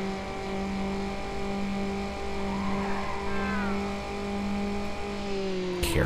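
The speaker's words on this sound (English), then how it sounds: "I actually have to use the brakes" A street-racing car in Need for Speed: Underground brakes hard, steady engine drone with a rising tire squeal under it, ending in a sudden burst of noise.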